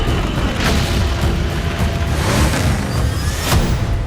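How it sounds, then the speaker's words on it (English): Flames burst from the new Batmobile, a mid-engine V10 or V12 car, in a movie trailer: a loud, continuous roaring whoosh with heavy low rumble and a couple of sharper booming swells, no speech. "it does shoot flames"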